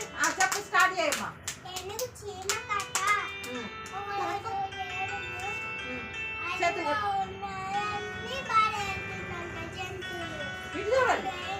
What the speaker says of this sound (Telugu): జాను క్లాప్స్ కొట్టండి ఒకసారి